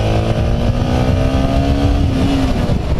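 A Yamaha MT15 motorcycle on a road in Thailand accelerates to overtake, its engine note loud and close, climbing gradually in pitch as it gains power, with no talk over it.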